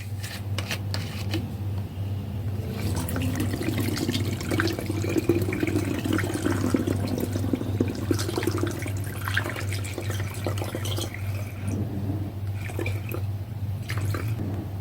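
One litre of clean drinking water poured into a bottle of honey-lemon wine mix, a steady liquid trickling and splashing with a low constant hum underneath, continuous and fairly close throughout.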